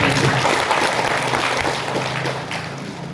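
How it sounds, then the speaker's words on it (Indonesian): Applause from a seminar audience in a hotel meeting room, a dense sustained wash of many hands clapping at fairly loud level, easing slightly toward the end with no talk over it. "Tepuk tangan untuk kita semua Bapak Ibu."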